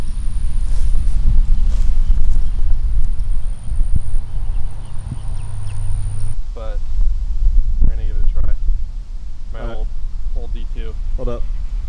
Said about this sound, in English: Now this wind is just crazy. Straight headwind.